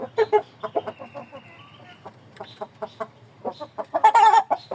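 Shamo cross chickens clucking in short repeated bursts, close by, with a louder squawking burst near the end.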